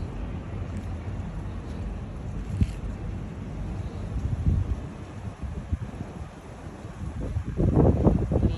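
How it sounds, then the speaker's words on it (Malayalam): Wind gusting outdoors beside the Bharathapuzha river at Cheruthuruthy near sunset, low rumbling buffets against the microphone that swell louder toward the end, with no voices. "നല്ല കാറ്റുണ്ട്"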